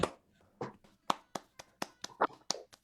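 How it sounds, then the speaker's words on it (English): Sparse handclaps from an online audience unmuted on a video call after a songwriting contest awards event, a few scattered claps from several people, fairly close and faint. "give a round of applause once more for Louis Kate, for Wayne Gathright, and for"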